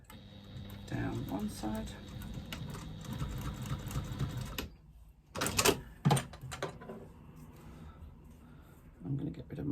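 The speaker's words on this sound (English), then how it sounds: "very, very carefully I'm going to stitch a 1/4 inch seam" Sewing machine stitching a quarter-inch seam down one side of fabric for a zipper end, a fast close mechanical whirr for about four and a half seconds, then a few clicks and a short burst of stitching, with a voice speaking over it.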